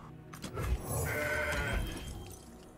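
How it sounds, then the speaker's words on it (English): A goat bleats from the Mountain Goat card in the Legends of Runeterra video game, one drawn-out, wavering bleat heard clearly over faint game ambience. "Mountain Goat gives us Surprise Diana"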